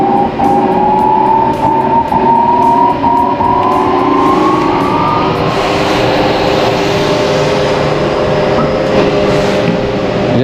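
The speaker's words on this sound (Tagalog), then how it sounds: "Painitin na natin yung makina." An engine warms up at idle, a steady loud mechanical drone with rising and falling whine tones, running continuously throughout without any talk.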